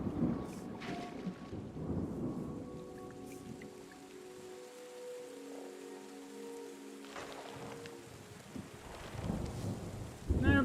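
Rain and rolling thunder in the video game Terra Nil, low rumbles swelling and fading under a steady hiss of rainfall, with bursts at the start and end.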